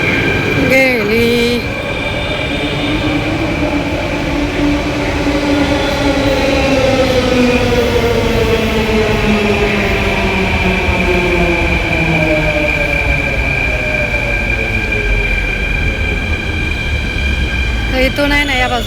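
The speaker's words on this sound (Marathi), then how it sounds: "तर असा मेट्रोचा प्रवास संपलेला आहे" Metro train ride heard from inside the carriage, a steady loud rumble with rising and falling motor whine throughout, continuous and close, with no talk over it.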